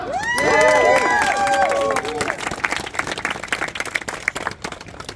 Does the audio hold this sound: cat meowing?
no